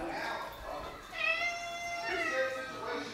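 A house cat meows in two drawn-out, rising calls a second apart, close and fairly loud over faint background noise.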